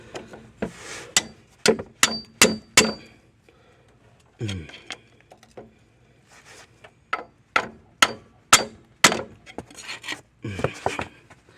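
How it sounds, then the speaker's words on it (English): A series of sharp, ringing hammer blows on metal while pulling a Ford Focus transmission, struck in quick bursts with pauses between, loud and close, with faint rasping in the gaps. "I gotta go get my hammer."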